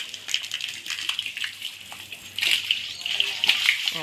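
Water splashes and sloshes in irregular bursts while a pet is bathed, growing busier and louder toward the end, with faint voices underneath.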